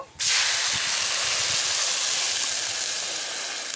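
Water hits hot lentils fried in ghee and bursts into a loud, steady sizzling hiss that starts abruptly and holds, close and continuous, with no talking.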